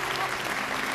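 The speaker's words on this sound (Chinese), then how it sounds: "来，掌声送别小伙子" A studio audience at a televised dating show gives a short, dense burst of applause, steady and fairly loud throughout, with faint music held underneath.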